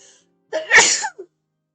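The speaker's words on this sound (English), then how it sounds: "Oh, I think I'm gonna sneeze." A single loud sneeze at close range, a quick sharp intake followed by a burst and a brief trailing sound, with silence around it.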